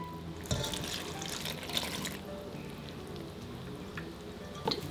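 Water poured from a measuring cup into a bowl of sourdough starter, flour and salt, a steady splashing trickle up close that fades after a couple of seconds into quieter kitchen sounds.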